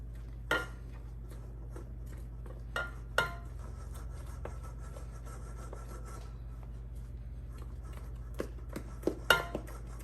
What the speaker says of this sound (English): So you want to mix this into the batter well.